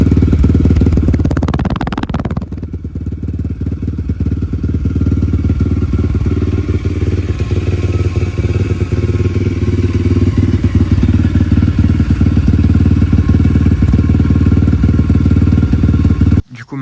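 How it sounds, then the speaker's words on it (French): A Yamaha RFZ motorcycle engine idles steadily while warming up before an oil change, a loud, close, continuous low rumble with an initial burst of revving or clatter in the first two seconds, then running evenly until it cuts off at the end. "la moto est en train de chauffer tranquillement"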